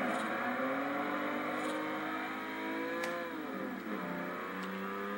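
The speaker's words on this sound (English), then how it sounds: "Little burnout." A 1995 Volkswagen Corrado VR6 does a burnout, its engine holding a loud, sustained high rev that dips and swells while heard from close inside.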